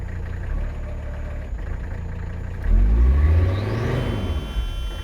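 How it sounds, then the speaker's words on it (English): An old, long-abandoned Mercedes 300CD diesel idles quietly, then revs hard at mid-clip with a deep rising rumble as a high turbo whine spools up over it, easing back down near the end. "You can hear that turbo spooling up."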